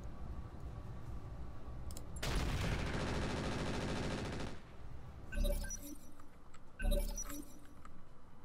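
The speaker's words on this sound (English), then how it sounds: "Let's get that heavy rifle. Leave the rocket launchers off for now, but let's fire everything on the Centurion." Centurion mech in the Roguetech video game firing its heavy rifle and other weapons, a sustained loud burst of gunfire followed by two shorter impact blasts.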